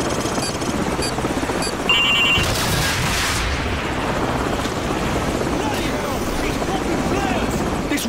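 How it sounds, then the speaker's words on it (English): A military helicopter in the Call of Duty 4 video game roars loudly and steadily throughout, with its rotor thump layered under game gunfire and effects, and a brief beep partway through. "grab a Stinger and take out that chopper"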